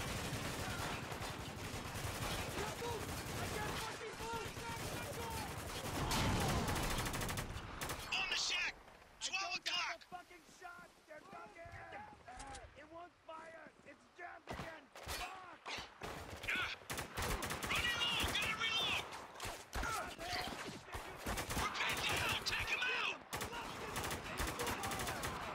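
Heavy gunfire in a Spec Ops: The Line firefight, dense bursts of automatic fire and shots packed almost continuously, easing briefly midway before building again, with shouted voices among the shooting.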